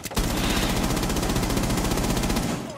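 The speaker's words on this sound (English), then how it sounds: "What are you shooting, Samuel?" Rapid automatic gunfire in the video game Rainbow Six Siege, a loud, unbroken burst of closely spaced shots lasting about two and a half seconds, with no talking.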